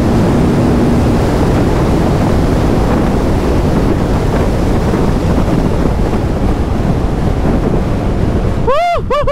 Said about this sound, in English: As you open throttle, there is a ton of windblast.